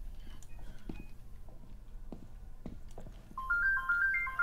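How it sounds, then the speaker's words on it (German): A phone ringtone chirps in a short repeating electronic pattern near the end, after some quiet clicks and taps in a room during an online game session, no talk over it. "Telefon!"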